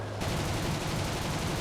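Aircraft machine guns, including an MG151, fire in a sustained loud rattling burst in the War Thunder video game, a dense continuous stream of rapid shots with no talking.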